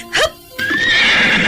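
A horse being ridden neighs in a long, loud, quavering whinny that follows a short snort-like burst, close and clear against a quiet background.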